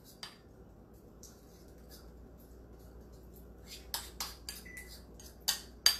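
Spoon mixing a small batch in a bowl for a keto cinnamon roll, with soft scraping followed by a run of sharp close clinks against the bowl.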